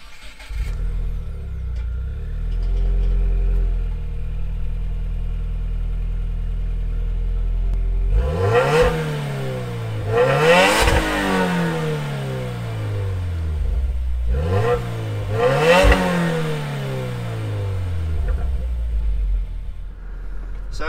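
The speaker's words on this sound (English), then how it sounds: "We'll start it up." A 2021 Subaru WRX Premium AWD with manual transmission runs at a low, steady idle rumble, then gets several sharp revs in pairs that rise and fall, heard close and clear with no talking.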